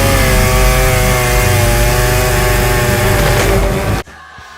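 A loud, steady engine whine with strong harmonics, like a chainsaw running continuously, then cutting off abruptly near the end.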